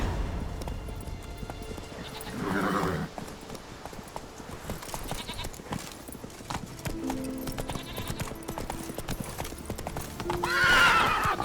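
Roach the horse from The Witcher 3 gallops with steady, close clip-clop hoofbeats throughout, and two whinnies break out on top of them, one shortly after the start and another near the end.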